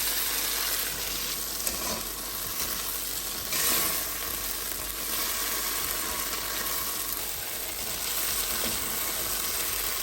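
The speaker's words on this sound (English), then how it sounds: "Now I'm going to add the sauce that I put together." Sauce poured into a hot pan with beans sizzles and fries steadily for about ten seconds, a dense even hiss with a few stirring bumps and no talk.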